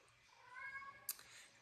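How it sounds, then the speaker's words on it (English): A single soft, drawn-out cat meow, fairly quiet and close, followed by a brief faint rustle. "And that's my cat, Callie,"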